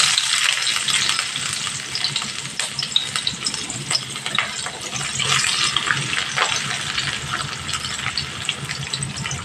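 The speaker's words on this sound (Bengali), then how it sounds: "এইভাবে দিয়ে ভেজে নিতে হবে" Sliced onions and panch phoron fry in hot oil, producing a loud, dense crackling sizzle that carries on steadily throughout with small popping ticks.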